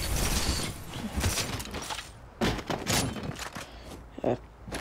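Gunfire in the video game Fortnite, with several loud bursts and single shots scattered across the clip over a busy, noisy game mix.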